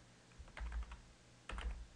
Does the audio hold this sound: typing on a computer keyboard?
yes